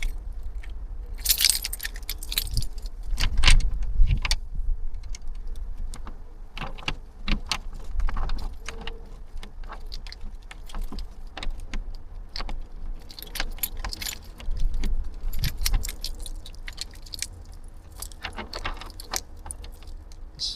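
A ring of keys jangles and clinks over and over while someone works a key into a frozen padlock outdoors in winter, with scraping and rattling bursts and a low rumble beneath.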